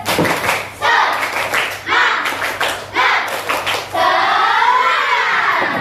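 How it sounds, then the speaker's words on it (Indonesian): Schoolchildren perform the 'tepuk semangat' rhythmic clap in a classroom, sharp group claps in patterned bursts separated by short pauses, with children's voices chanting along, ending in a sustained shout. "kita tepuk semangat lagi coba. 1, tepuk semangat"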